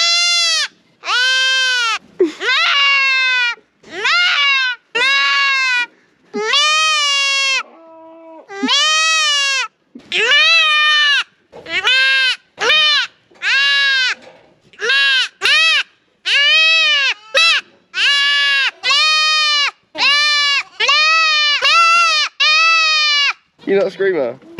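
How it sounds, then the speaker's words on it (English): Goat kids bleating and screaming in loud, rapid, repeated cries while being picked up, nearly continuous bursts close by. "When you pick goat kids up, they scream at you like they're being murdered."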